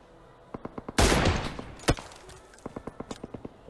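Gunfire in PUBG Mobile comes as rapid bursts of evenly spaced shots, with a louder blast and a short rushing noise in the middle, and then another quick string of shots, all fairly close and with no voices.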